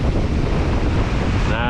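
Ocean surf breaks on a fishing beach, a loud, close wash of rushing water with wind buffeting the microphone throughout.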